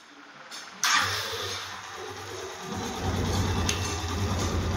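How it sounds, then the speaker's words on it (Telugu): A Hero Karizma R 225cc motorcycle, mid-restoration, cranks with a sharp click and then settles into a steady low idle that grows slightly fuller as it runs, heard nearby without talk. "ఒకసారి మీకు ఇంజిన్ బీటింగ్ వినిపించేసి తినేసేయండి"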